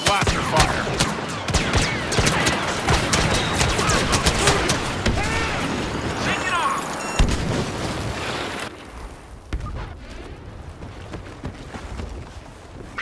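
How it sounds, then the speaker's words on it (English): Rapid blaster fire and explosions from a Star Wars Battlefront Hero Hunt match on the Jawa Refuge map, with dense overlapping shots and booms filling the first eight seconds before easing into quieter, sporadic combat. "Who wants some blaster fire?"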